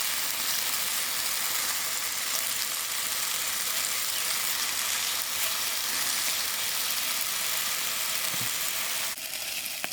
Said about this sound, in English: You should just use the fork and allow those oils to escape so it can fry with its own oils.